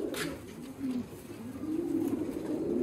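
Pigeons coo in a loft housing a full breeding setup of fancy pigeons with eggs and chicks, a steady run of low, throaty rolling coos close by with no talking.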